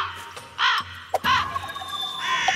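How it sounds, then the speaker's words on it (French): Cartoon crows in an animated scene caw in a few harsh, raspy bursts, loud and close, separated by short pauses over a faint background bed. "Tu entends leur croassement? C'est insupportable."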